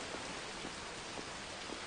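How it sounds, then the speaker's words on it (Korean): Rain falls steadily in a faint, even hiss with soft scattered drop patters, alone and unbroken. "아, 이렇게 구질구질 비가 오냐, 어?"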